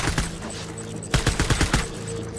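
Rapid assault rifle fire in Death Stranding, a quick burst of several closely spaced shots in the middle over a steady droning game background, with a few scattered shots at the start.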